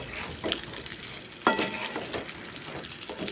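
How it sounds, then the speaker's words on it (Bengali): Pointed gourd stirred through a spice paste frying in a pan over raised heat, giving a steady close sizzle with scraping strokes and one sharper clatter, no voices. "এবার গ্যাসের আঁচটা একটু বাড়িয়ে দেব আর একটু নাড়াচাড়া করে নেব পটলটা দিয়ে"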